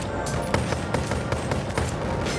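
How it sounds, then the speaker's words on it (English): Rapid bursts of Uzi submachine gun fire in the Boneworks VR game, short repeated volleys of shots crackling close and loud over a steady dense background. "you see this one sprays bullets a little bit more, so you just want to do some burst fire with that"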